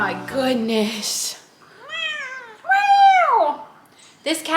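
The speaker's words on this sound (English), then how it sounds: "This cat has a lot to say" A talkative cat meows several times in a row, drawn-out rising and falling cries up close, with a person's voice talking briefly at the start and end.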